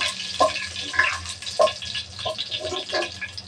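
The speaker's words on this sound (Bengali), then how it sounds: "আমি মশলাটা একটু ভেজে নেব।" Whole spices (cloves, cardamom, cinnamon) fry in oil with a soft, steady sizzle, punctuated by several light clinks and taps of a spoon in the pan.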